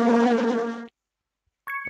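Bees flying back in the puzzle video game Clue Hunter: a loud, tonal buzzing burst that cuts off abruptly, followed by a brief pause and another short buzz.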